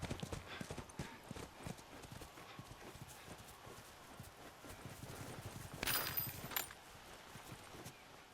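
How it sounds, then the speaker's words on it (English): Footsteps in The Last of Us Remastered video game patter quietly in a steady, rapid rhythm, with a brief louder scuffle partway through. "That was a lot of footstep sounds."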